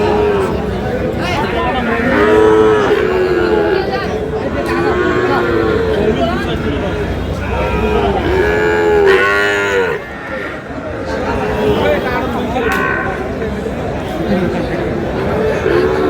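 Cattle, including Sahiwal-breed bulls and calves, moo loudly and repeatedly at a busy livestock market in Satkhira, with crowd chatter running underneath throughout.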